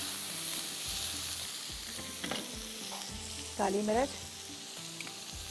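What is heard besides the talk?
vegetables being stir-fried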